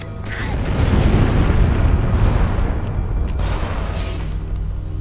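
A fusion reactor explodes in Halo: Combat Evolved, a loud, deep booming blast that swells and rumbles for several seconds before slowly easing off.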